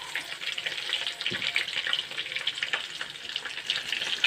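Galunggong (round scad) fish fry in a pan of hot oil, giving a steady, dense sizzle with fine crackling pops that runs without a break and without talk.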